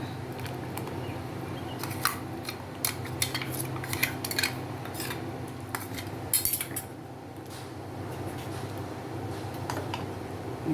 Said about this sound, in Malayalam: ഇതിന് ഞാൻ കലക്കി ഇതിലൊഴിക്കുകയാണ്.